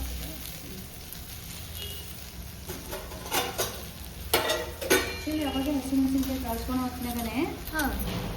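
Fenugreek, cumin and asafoetida fry in hot oil, a soft sizzle with a spoon stirring and scraping the pan, then louder clatter; a person talks over the cooking.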